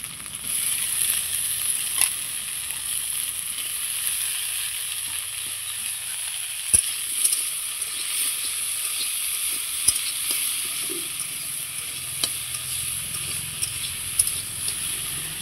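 Pumpkin and eggplant pieces fry in an oil-filled pan for a village vegetable dish, a constant close sizzling hiss with scattered small pops and clicks, no voices.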